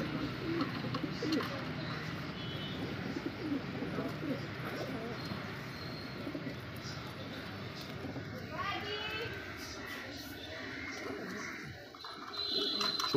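A pair of Kaldume pigeons coos in soft, low repeated calls while someone talks over them nearby, with faint chirps and rustling in the background.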